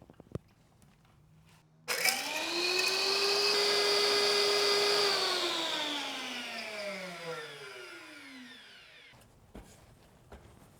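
A mill grinding leaf fiber into powder, a loud high-pitched whine that spins up abruptly, holds steady for a few seconds, then slowly winds down in pitch before stopping, with a few clicks around it.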